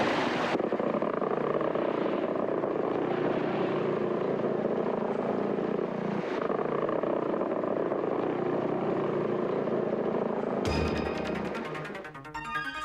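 An AC-130 gunship propeller aircraft drones steadily in a continuous engine roar with a low throbbing hum, then a sharp shift near the end to a different broadband mechanical sound.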